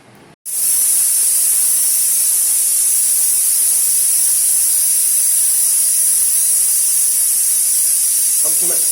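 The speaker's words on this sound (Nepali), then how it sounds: "अब कुकरमा सिटी लाउनको लागि अथवा पकाउनको लागि हामी कुकरमा राख्दै छौं" A pressure cooker vents steam in a loud, steady, high-pitched hiss that starts abruptly and holds without a break, close and constant, with no voices over it.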